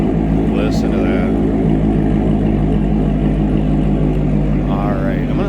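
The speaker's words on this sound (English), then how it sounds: "a good sounding exhaust, kind of menacing sound" A 2017 Chevrolet Corvette Z51 2LT coupe's exhaust rumbles loudly and steadily nearby with a deep, menacing idle and mild revving, while someone talks over it.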